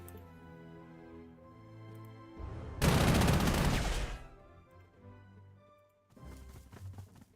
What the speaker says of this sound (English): Now let's see if we could just pepper him with tank shells.